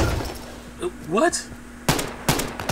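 M14 rifle shots in the shooter game Insurgency, two sharp close cracks near the end, following a player's voice speaking over a low room hum.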